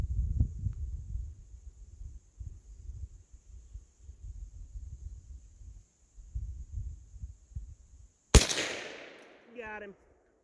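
A single sharp gunshot from a Henry lever-action .22 Magnum small game carbine cracks loudly outdoors, then decays through a short tail after quiet ambient rumble.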